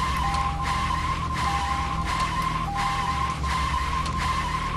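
A car in the game Deadly Premonition drives with a constant engine drone, and a high tire squeal rises and falls in repeated skids across the clip. No one talks.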